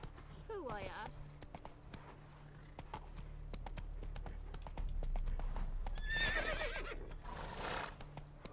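Roach, the horse in The Witcher 3, clip-clops along a path in steady hoofbeats, with short whinnies near the start and end and a low in-game ambience underneath; no voice sounds over the hooves.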